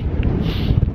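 Heavy wind on a foggy Lake District mountain pass buffets the microphone, a loud low rumbling roar with gusty bursts throughout the brief moment.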